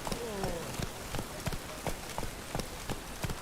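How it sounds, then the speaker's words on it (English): Hooves of the horse Roach pound out a steady gallop in The Witcher 3, a quick repeating clip-clop rhythm of sharp thuds over a hissing ambient bed, with no talk. "Run, Roach."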